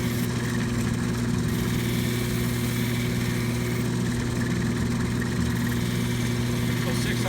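A soft 600-grit belt grinder sands and rounds off the edges of a Chlorastrolite greenstone from Isle Royale. A continuous loud motor drone with a steady low hum runs throughout, and a person talks over it.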